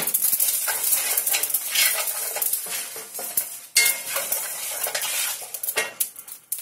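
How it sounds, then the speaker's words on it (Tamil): Cumin seeds dry-roasting in a pan, with steady scraping and stirring clatter of a utensil against metal and a faint sizzle running throughout, close and fairly loud. "அடுத்தது ஜீரகம் போட்டுக்கிறேன் ஜீரகத்தையும் லேசா வதக்கணும்"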